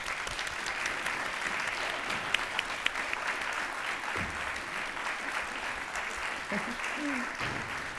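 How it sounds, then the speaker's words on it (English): Audience at a live debate event clapping for two newly introduced guests, a sustained, even roll of applause from a sizable crowd, fairly soft and distant in the room. "please clap your hands for Maryanne and Bianca"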